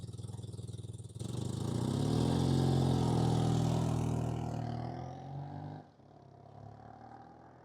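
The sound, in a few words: BMW R100RS motorcycle engine running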